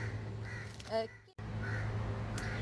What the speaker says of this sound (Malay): Kacau lah burung gagak ni.